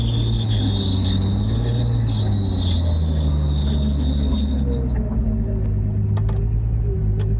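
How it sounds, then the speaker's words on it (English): A car with its engine stalled up high against a hard-pressed foot brake, a torque converter under load, gives a loud continuous rumbling drone topped by a thin, steady high squeal that fades out partway through while the rumble carries on. "I don't know what that squealing sound was"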